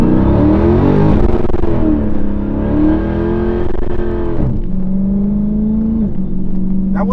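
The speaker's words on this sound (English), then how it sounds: "Maybe we can do a little burnout." A Dodge Scat Pack 392 revs hard during a burnout, its engine note rising and falling in loud, sustained surges with a brief dip before climbing again, close and dominant throughout.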